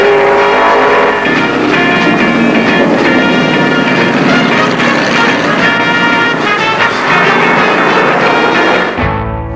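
Stock cars race around the track in a loud, dense, continuous roar of engines, steady for most of the stretch before cutting off abruptly at the end.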